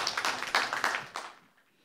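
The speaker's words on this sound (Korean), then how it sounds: "큰 박수 부탁드립니다." Audience at an academic symposium on Korean-Chinese film history claps for an introduced speaker; a short burst of moderately loud applause that fades out by the end, with no talking.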